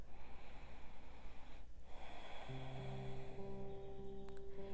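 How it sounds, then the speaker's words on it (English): A slow, deep breath is drawn in and let out close to the microphone during a calm tapping routine for pain relief, with soft sustained music tones entering partway through. "Take a deep breath."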